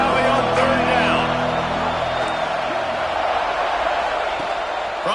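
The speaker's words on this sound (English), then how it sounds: "Here comes the noise from this big crowd in Happy Valley on third down." Big stadium crowd in Happy Valley roars on third down in the video game College Football 26, a loud sustained swell of cheering and whooping, with brief musical tones early on.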